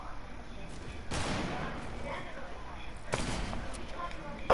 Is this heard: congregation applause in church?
no